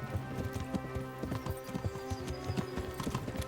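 Rhythmic clip-clop of horse hooves at a gallop in the medieval video game Kingdom Come: Deliverance, steady close beats over game music with a brief whinny, no talking.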